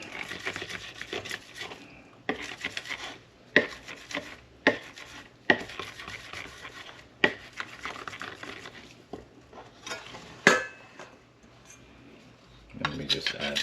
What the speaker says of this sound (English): And 2 cloves of garlic. I have my garlic mincer here.